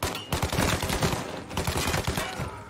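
Dense gunfire in Mafia: Definitive Edition, a rapid run of overlapping shots and bursts that fills the whole stretch at steady loudness, with a faint voice in places.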